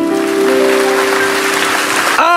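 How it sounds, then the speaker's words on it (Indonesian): Steady church congregation clapping during a sermon fills the space alongside held musical notes, ending with a sudden sharp change at the close. "Kasih tepuk tangan untuk Tuhan."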